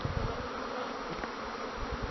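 Agitated bees at a beehive while a second hive is being installed, a dense, steady buzzing close by with no talk.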